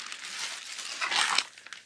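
Packing paper from a clothing bag crinkles and rustles close to the mic for a couple of seconds, swelling into a louder crumple near the end, with no talking.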